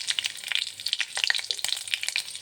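Chopped onion, green chili and black cumin seeds fry in hot oil in a pan, giving a quiet, close crackle of irregular pops and light sizzling spits with no talking.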